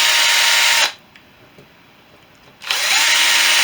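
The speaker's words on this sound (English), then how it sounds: "I'm using a 3mm drill bit. It's quite blunt 3mm drill bit" A handheld power drill fitted with a blunt 3mm bit marks hole positions in a windscreen sheet, giving two loud, close whirring bursts split by a short quiet gap.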